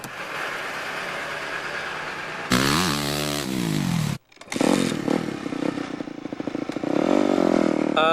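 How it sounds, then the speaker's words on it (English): A new 250F dirt bike ridden at a Supercross track, loud close engine revving with rising and falling pitch, a brief cut in sound, then throttle blips and sustained high revs. "Got a new 250F today and just having fun riding."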